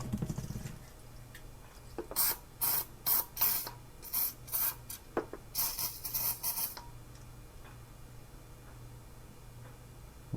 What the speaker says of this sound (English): I'll apply some more penetrating fluid in there